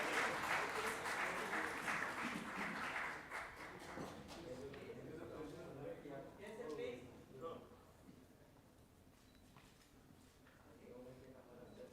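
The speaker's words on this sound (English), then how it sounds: "We would like some applause from the public here." Conference audience applause, a dense clapping burst that fades after a few seconds, giving way to voices talking at low level.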